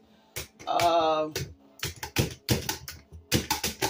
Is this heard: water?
no